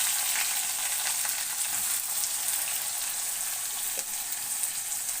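Onions hitting hot oil already seasoned with mustard seeds, cumin and curry leaves for a Tamil tomato thokku give a steady, bright sizzle, close and continuous with no voices.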